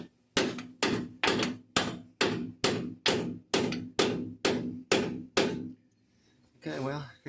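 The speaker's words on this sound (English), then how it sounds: "Let me get a hammer and we'll kind of bang on that a little bit and see if that help out." A small hammer strikes a steering rag joint coupler ten times in an even rhythm, each sharp metallic hit ringing briefly, close and loud, followed by a short stretch of someone talking.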